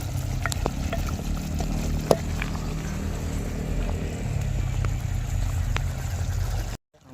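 Potatoes and whole garlic fry in a pan for a duck curry, giving a steady, close sizzle and crackle with a low bubbling rumble underneath, a couple of sharp clinks along the way, ending abruptly.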